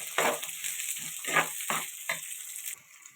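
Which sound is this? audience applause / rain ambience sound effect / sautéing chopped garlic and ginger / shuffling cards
sautéing chopped garlic and ginger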